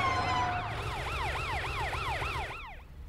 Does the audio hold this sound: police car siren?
yes